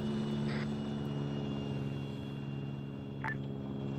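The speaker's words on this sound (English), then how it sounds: "Recon chopper flying due to that contact." A recon helicopter in a military video game drones steadily at a distance, a low, even rotor and engine hum with a couple of faint short blips over it.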